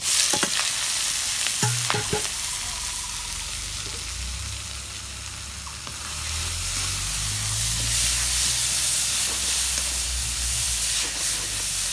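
Leafy greens tossed into hot oil with browned garlic, a loud burst of hissing sizzle and steam that settles into steady frying, with spatula clanks and stirring scrapes throughout.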